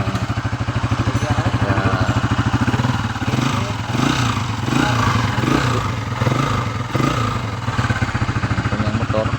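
A noisy TMX 155 motorcycle engine, said to sound like a cat, runs close and loud with a steady pulsing rattle and slight revving throughout, with no voices over it.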